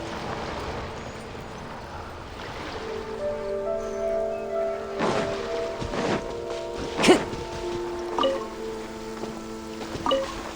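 Heavy downpour in Genshin Impact, a steady wash of rain under in-game music tones and a few sharp splashy impacts.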